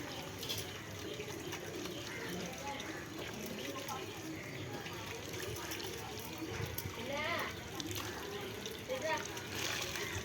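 Water runs from a household tap in a steady, fairly quiet stream beneath the talk of a woman nearby, with a few pigeon coos in the background.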